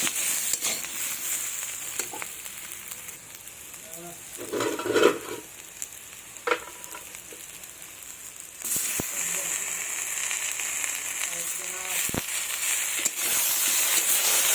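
Chopped tomatoes hit a hot pan for a Bengali rohu fish curry, giving a steady hiss and sizzle that swells as they go in, with occasional stirring scrapes and clinks.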